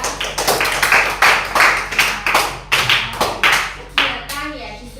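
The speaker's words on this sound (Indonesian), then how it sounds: "Tepuk tangan ya untuk Vino ya." Children in a classroom clapping for a classmate, several short bursts of close, sharp hand claps with a steady rhythm, fading out near the end.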